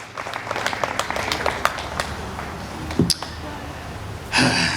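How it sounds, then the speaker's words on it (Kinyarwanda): A church congregation claps in a loose patter of scattered hand claps, with a voice heard among them and a louder burst of noise at the end. "Abandi dukomere Imana amashyi, twese duhaguruka."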